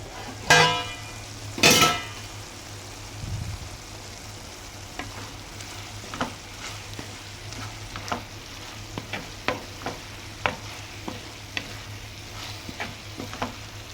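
Ivy gourd and tomato curry sizzles softly in a pan while a spoon gives a few loud scrapes early on, then a series of light taps and stirs against the metal over the steady frying hiss.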